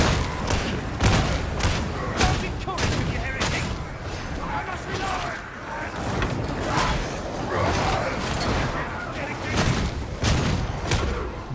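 A bolt gun fires in the video game Warhammer 40,000: Darktide, its heavy, booming shots coming in rapid repeated bursts with mechanical clatter, loud and dense throughout.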